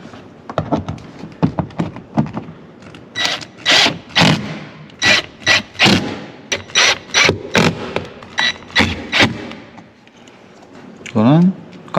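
A ratchet tightening bolts during a mirror module install on a Torres EVX, rapid clicking bursts repeated in short strokes, close up, with someone talking in between.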